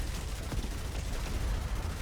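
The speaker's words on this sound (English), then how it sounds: "Explosions everywhere." Dense, continuous video game combat: rapid overlapping gunfire and explosions roll together into a loud, steady barrage with no pauses and no one speaking.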